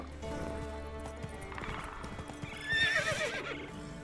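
A horse ridden in The Witcher 3 clops along in an irregular hoof rhythm, then gives a loud, shrill whinny near the end, close and clear over a low ambient bed.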